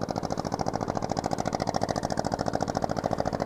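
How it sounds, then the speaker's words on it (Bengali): Engines of two fishing trawlers coming in toward Tajpur beach chug in a fast, even knocking rhythm, a steady mid-pitched pulsing drone that holds at the same loudness throughout with no talk. "এর সামনে 2টো ট্রলার আসছে"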